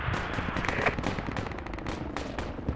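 Sustained video-game gunfire from a fire-support position, dense rapid bursts of automatic fire layered with heavier shots, loud and continuous throughout with no pauses.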